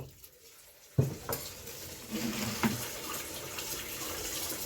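Water from a filter splashes and pours steadily into a cooking pot after a quiet start, a continuous rushing stream close by with a few clinks.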